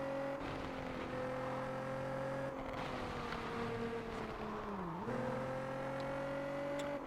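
Race car engines in a Switch racing video game drone steadily at high revs, the pitch dipping and shifting as gears change, loud and continuous with no talking.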